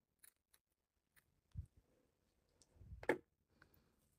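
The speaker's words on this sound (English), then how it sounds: "we'll cut off our yarn here" Scissors snip through crochet yarn, a few soft close clicks and one sharper cut near the end, quiet and alone.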